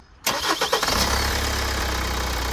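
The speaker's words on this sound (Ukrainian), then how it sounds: "завівся бадьоро нічого не скрипить, не шуршить" A warm crossover SUV engine with freshly changed oil cranks briefly and catches, then settles into a steady low idle close by, without squeaks or rustles.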